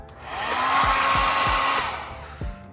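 A hair dryer whirs steadily with a broad airy roar, joined by a few low thumps and a brief knock near the end.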